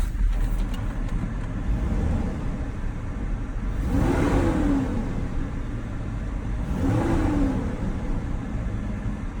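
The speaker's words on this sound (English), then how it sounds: "Rev it up a little bit here." A truck engine idling steadily, then revved twice in rising and falling swells about three seconds apart, close by and fairly loud with no talking.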